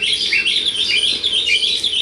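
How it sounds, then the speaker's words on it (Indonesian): A small bird chirps and twitters continuously nearby, bright rapid calls filling the whole moment with no talking. "Iya, ada burung."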